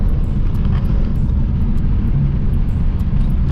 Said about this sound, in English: sorry about all the wind noise. I just let the windows open so you can actually hear the car